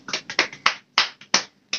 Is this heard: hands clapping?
yes